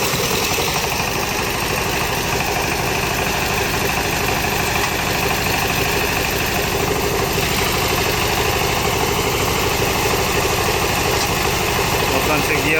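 Farm machine engine in a village field, started and then running at a steady idle, a loud continuous rumble with vibration throughout, with a voice heard over it at times.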